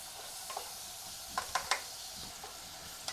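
Food browning in a pan gives a faint, continuous sizzle, broken by a handful of light utensil taps and scrapes clustered near the middle, with no talking.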